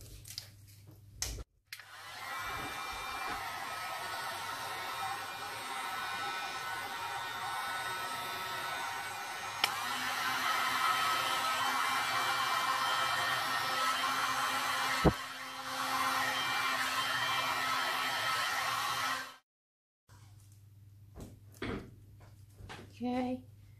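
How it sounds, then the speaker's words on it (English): A heat gun blows over poured resin art as a steady, close airflow hiss for most of the clip, with a brief change in its tone partway, then cuts off. Knocks and handling noises come before and after. "let's get the heat gun in."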